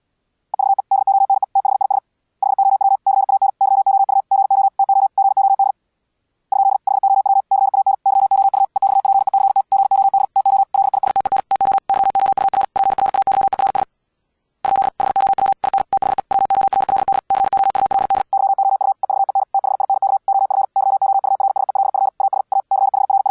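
Fast, high-speed Morse code tones generated by the Bipper software, a steady rapid stream of beeps at a single pitch with brief gaps, partly covered by bursts of crackling static noise in the middle.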